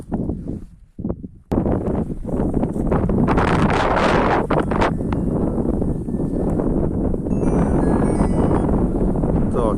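Strong wind buffeting a microphone in an open wheat field, loud continuous roaring rumble after a brief quieter start, with gusty surges throughout.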